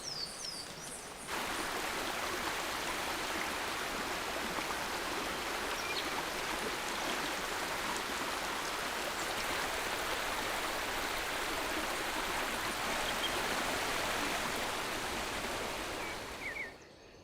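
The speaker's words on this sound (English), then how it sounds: "All the water is funneled into innumerable streams and rivers." Water rushing through streams in a forest, a dense, steady broadband flow that stays loud and unbroken, with a few faint high chirps at the start and end.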